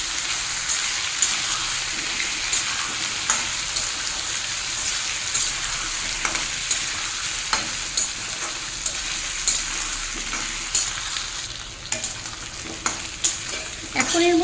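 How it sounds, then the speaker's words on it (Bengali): Potatoes and onions fry with crushed ginger-garlic for an egg and potato curry, a loud, dense, rain-like sizzle that runs throughout. Scattered spatula scrapes and taps are heard, and no one speaks. "এটাও আলুর সঙ্গে ভালোভাবে ভেজে নেবে।"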